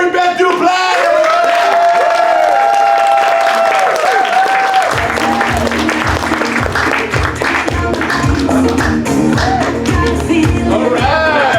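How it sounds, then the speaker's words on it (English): A comedy show audience applauds a sketch comedy performer coming on stage, loud sustained clapping with some whoops, and the cheering crowd builds to fuller, denser applause partway through. "give a round of applause for one of my friends from the Big Toe Sketch Show, Mary Beth Duplant."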